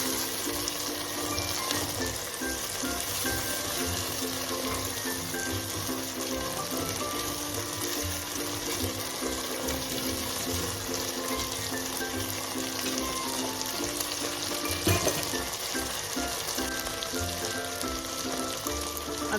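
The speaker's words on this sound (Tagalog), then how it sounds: "So gigisahin po natin ito. Haluin para hindi po masunog." Garlic paste sautéing in a pan for pav bhaji, a steady sizzle with light stirring that runs without pause, close and fairly quiet, with no talking.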